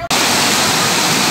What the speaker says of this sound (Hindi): स्टेशन में इतनी भयंकर झरना बह रहा है।